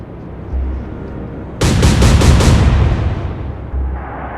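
Naval gunfire in the strategy game Atlantic Fleet: a loud, rapid salvo of four or five booming shots rolls into a sustained rumble over a low background drone, with no talking.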